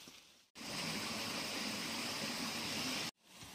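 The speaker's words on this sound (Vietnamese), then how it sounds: "Phía dưới này là một con suối." A mountain stream flows below a forest trail, a loud, steady rushing gush of water that cuts in abruptly and runs unbroken for a few seconds before stopping sharply.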